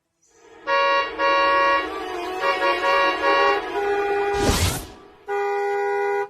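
A car horn honks in several sustained blasts, loud and close, with a brief whooshing burst of noise between the last two honks; no one speaks.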